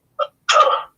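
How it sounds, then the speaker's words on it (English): A woman sneezes once, close by and alone: a short sharp intake comes first, then the fuller, breathy burst of the sneeze. "She sneezed."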